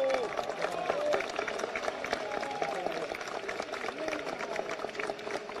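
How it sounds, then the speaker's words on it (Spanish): A crowd of supporters applauds and cheers for the diplomatic corps accredited in Venezuela at an outdoor rally, a steady dense roar of clapping and voices filling the space with whistles and shouts mixed in. "quiero que le brindemos un gran aplauso."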